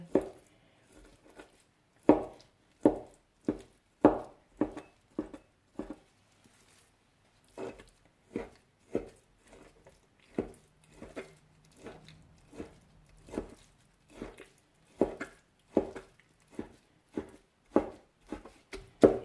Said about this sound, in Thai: แล้วก็สับอย่างนี้ค่ะ